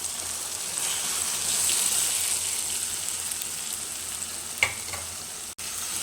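Chicken mixed with salt, chilli and oil into cooked greens in a pan, giving a steady low sizzle with a brief scrape and knock near the end.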